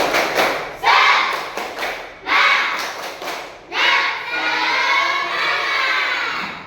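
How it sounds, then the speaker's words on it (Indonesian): A school class performs a rhythmic spirit clap chant before a lesson, children clapping in quick patterned bursts and then shouting together in loud group calls, the bursts separated by short pauses before a longer sustained chant. "kita sebelum belajar tepuk semangat"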